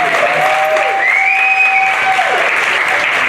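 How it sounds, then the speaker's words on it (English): Audience at an NPC bikini competition applauding, a dense steady round of clapping with a few whoops and whistles, loud and sustained for a few seconds. "Give them a big round of applause."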